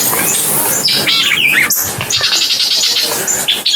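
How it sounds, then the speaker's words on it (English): A White-eyed Vireo sings loud and close, a rapid series of sharp, varied chirps and whistled phrases, with other bird sounds mixing in outdoors. "Here's White-eyed Vireo."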